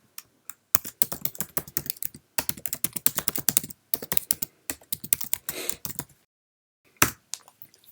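Keys clatter on a Mac keyboard in quick bursts of close, crisp clicks broken by short pauses, ending with a single sharp keystroke after a brief silence.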